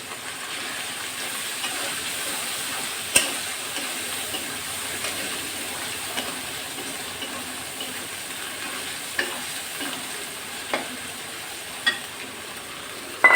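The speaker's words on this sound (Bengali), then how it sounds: "মাছটা একটু ভাজা ভাজা হবে তো, এই মাছটা আমি এখন এর ভিতরে দিয়ে দেবো" Fish frying in a pan in a home village kitchen, a soft steady sizzle with occasional sharp clinks and stirring knocks, no talk.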